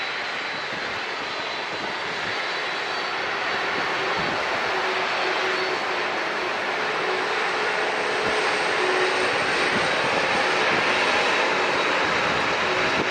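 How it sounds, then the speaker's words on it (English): A Boeing 767 takes off at San Diego International with its jet engines at full thrust, giving a loud, steady, broadband roar that slowly swells and fills the whole stretch with no voices. "This is going to be powerful here with the engines thrust coming towards us. It's going to be loud."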